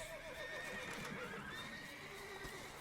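A horse in The Witcher neighs with a long shaky whinny over soft clip-clop hooves, faint and alone with no voices.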